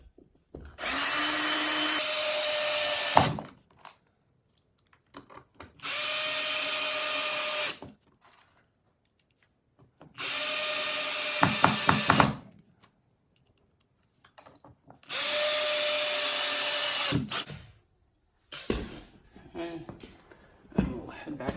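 A power drill drives screws into an electrical floor box, whirring in four separate bursts of about two seconds each with quiet gaps between, followed by a few small clicks and handling sounds.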